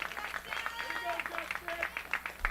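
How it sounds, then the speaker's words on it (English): A baseball crowd at Lowell Park claps in a quick, uneven patter, moderately distant and fairly soft, with a voice talking over it throughout. "The crowd makes some noise here at Lowell Park, clapping their hands."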